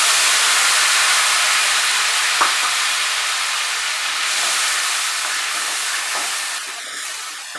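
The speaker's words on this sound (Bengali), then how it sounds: "আঁচটাকে একদম কমিয়ে নিয়ে আমি মশলার পেস্টটা অ্যাড করে দিলাম।" Spice paste sizzling steadily in a pan over very low heat for a Bengali potol malai curry, a continuous bright hiss with faint stirring clicks, close and fairly loud with no talk.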